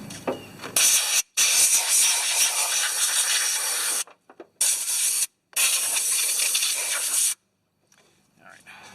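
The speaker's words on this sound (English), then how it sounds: "I'm going to take my air blower and blow it out one more time" Compressed air from an air blower gun hisses loudly while cleaning out a part on a 1976 Detroit Diesel fire truck engine, coming in several strong bursts separated by short silences, close to the listener.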